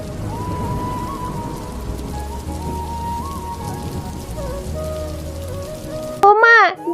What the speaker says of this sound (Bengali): ওমা, দেখো বাইরে কত বৃষ্টি হচ্ছে